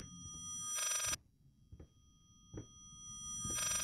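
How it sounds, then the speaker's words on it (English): Old-style telephone bell in the horror game Layers of Fear, two loud bursts of rapid metallic ringing separated by a quiet pause with faint thuds, no talking. "Do I have to answer the phone?"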